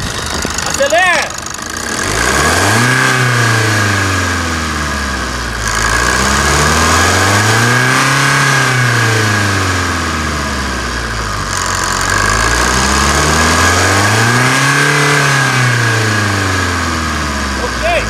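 A 2017 Chevrolet S10 engine, after an engine service with decarbonization and timing belt work, revs repeatedly from idle, rising and falling in three long, loud, close sweeps.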